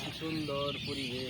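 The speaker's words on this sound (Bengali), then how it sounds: "ভালো লাগতেছে পাখির কিচিরমিচির শব্দ।" Birds chirp outdoors in a pleasant open setting, a few short tonal calls repeating through a steady background while a person speaks over them.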